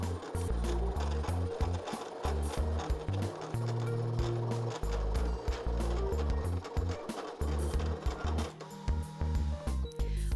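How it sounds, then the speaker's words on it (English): A Brother ScanNCut2 CM350 cutting machine with its blade set for cardstock cuts out a stamped image, giving a steady, close mechanical whirring and stepping motor sound with rapid ratcheting pulses running continuously. "the machine is going to cut out my stamped image for me"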